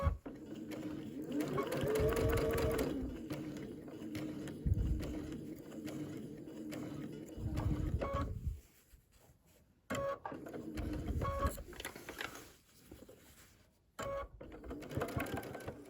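A sewing machine stitches down a denim cathedral-window table runner, running in steady bursts of close, even whirring that stop and restart with short pauses between runs.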